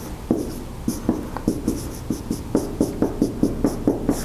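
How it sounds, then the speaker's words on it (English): Chalk or marker writing on a board in a university lecture hall, a run of quick, distinct taps and strokes arriving at an uneven rhythm, fairly close and clear with no talking over them. "So then let me write this."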